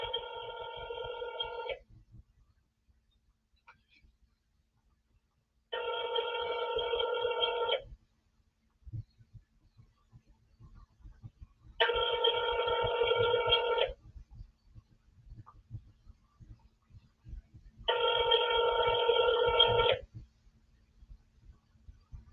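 A telephone ringback tone sounds while a call is being placed, four evenly spaced rings of about two seconds each separated by quiet gaps, clear and close with faint background noise between them.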